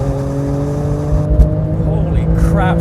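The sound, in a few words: Porsche sports car engine revving at 7,200 RPM on racetrack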